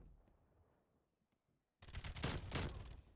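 Automatic weapon fire in a shooter video game bursts in loud and sustained at close range after a near-silent lead-in, rattling continuously to the end.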